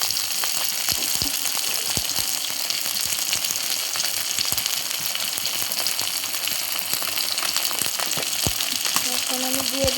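Prawns tipped into a hot pan at once for a curry, a steady loud sizzle of frying with occasional sharp clicks and scrapes throughout.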